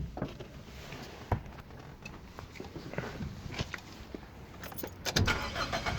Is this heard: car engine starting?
yes